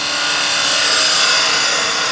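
A drill bit boring into a wooden workpiece spinning on a lathe, a close, continuous grinding rasp that stays loud and even throughout.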